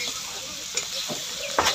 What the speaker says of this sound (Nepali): मजाले फ्राई चरर फ्राई हुनुपर्छ।